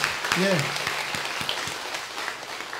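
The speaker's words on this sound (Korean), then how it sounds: "우리 하나님께 영광의 박수 올리겠습니다." A church congregation at a Korean Sunday worship service breaks into applause, brief scattered clapping with a voice briefly audible over it near the start.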